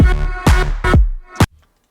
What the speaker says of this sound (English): I'm gonna use this pretty fat sub, and that's gonna sound like this.